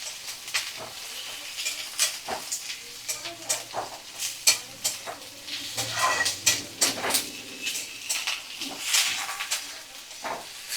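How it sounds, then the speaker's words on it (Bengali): Chopped vegetables including kohlrabi and beans are tossed in a hot pan with garlic for a spinach dish, producing a close sizzle broken by repeated sharp spatula scrapes and clatters in an uneven rhythm. "সমস্ত সবজি ভালো করে নাড়াচাড়া করে নিচ্ছি"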